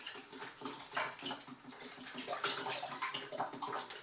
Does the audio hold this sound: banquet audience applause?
no